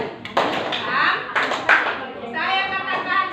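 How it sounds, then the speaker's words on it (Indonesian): Children in a classroom clapping hands during a teacher-led clapping game, several separate bursts of near claps mixed with a voice and teacher talk. "saya bilang tepuk sekali"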